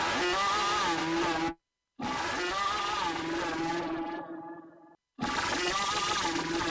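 Loud dubstep synth bass built with Logic Pro stock plug-ins, pitched down an octave and thickened with ring shifter and scan vibrato, growls in sustained harmonic bursts broken by two short silent gaps.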